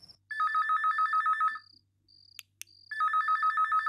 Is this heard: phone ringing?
yes